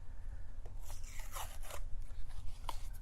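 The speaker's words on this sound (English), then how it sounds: "just peel this off. Careful not to let the paper get ripped." Paper facing being peeled off a piece of broken drywall during a hole repair: a few dry tearing and scraping rasps, close and moderately loud, with no talking.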